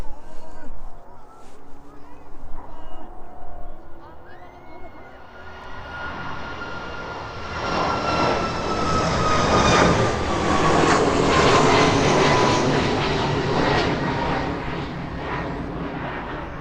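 A jet aircraft at East Midlands Airport approaches from a distance, its engine roar and rising whine swelling from faint to loud and sustained, with a voice talking beneath at first.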